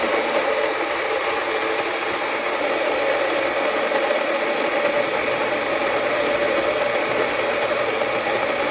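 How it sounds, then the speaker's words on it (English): An electric coffee grinder grinds coffee beans in a steady, continuous whir that runs loud and unbroken from start to finish, set for about ten seconds, with no talking over it. "And then I'll grind some coffee beans."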